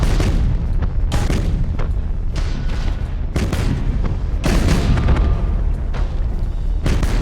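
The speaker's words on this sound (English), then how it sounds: "Target destroyed, Captain. Boom. We blew it to pieces." Ship explosions in the video game Battlefleet Gothic: Armada, a series of loud booming blasts with rumbling decay, sustained and dense throughout with repeated heavy bursts.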